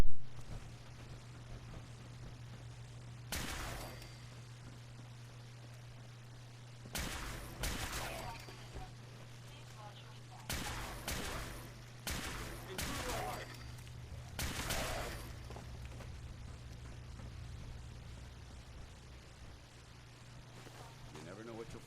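Gunfire bursts in the Fallout 4 video game, several sharp broadband volleys in clusters over a steady low hum, loud and close, with quieter gaps between.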